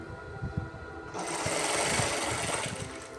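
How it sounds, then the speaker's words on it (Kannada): A sewing machine stitches a fall onto a yellow saree with a light coffee-coloured border. Its steady, close whirring starts about a second in and runs continuously to the end over faint background noise. "ನೋಡಿ, ಈ ಸೀರೆಗೆ ಫಾಲ್ ಹಾಕ್ತಾ ಇದ್ದೀನಿ."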